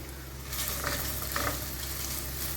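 Soya chunks sizzle and crackle in hot frying oil, a steady, soft hiss with a few brief stirring swells and no talking.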